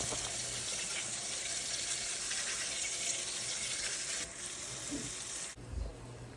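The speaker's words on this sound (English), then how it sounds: "we're just going to go ahead and give them a quick rinse off" Soaked lima beans get a quick rinse under a running kitchen tap, a steady hissing stream of water that continues for several seconds, drops slightly in level, then stops with a faint clatter.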